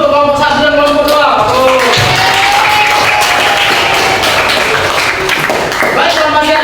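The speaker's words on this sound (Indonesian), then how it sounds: "Untuk tepuk tangan dulu untuk kelompok 1 dan kelompok 2" Classroom applause for student groups, a burst of clapping from students that fills the room, with a voice talking over it and some taps and thuds.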